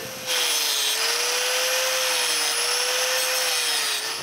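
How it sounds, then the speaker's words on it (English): A power grinder works a metal ferrule meant for a wooden turning tool handle, a loud continuous whining hum with a high shrill edge that starts abruptly and holds steady. "To help to glue this to the handle, I grind a little bit."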